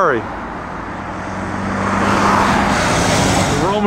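A Ferrari goes by on a busy road near the Roman bridge at Spoleto during the 2010 Mille Miglia, its engine swelling from steady to louder as it approaches, with traffic noise throughout.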